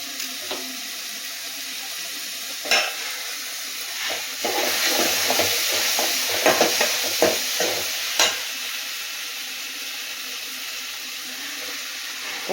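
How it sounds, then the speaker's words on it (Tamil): Chopped garlic sizzles in a pan under a steady frying hiss, with occasional clinks and scrapes of stirring. "பூண்டு வந்து பொடிச்சாக நறுக்கி அதை சேர்த்துக்கலாம்"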